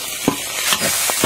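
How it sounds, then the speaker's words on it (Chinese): Garlic and chili bean paste are stir-fried in hot oil with pickled chilies and ginger: a steady close sizzle broken by several sharp scrapes and stirs of a spatula in the wok, with no talking. "炒蒜炒香，炒出红油"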